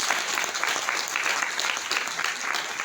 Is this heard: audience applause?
yes